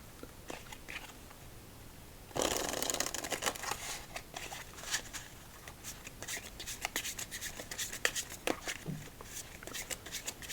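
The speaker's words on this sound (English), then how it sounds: "One more shuffle, and then game number 3." Playing cards being shuffled close by: a burst of riffling, then scattered soft flicks and rubbing of cards, fairly quiet with no voices.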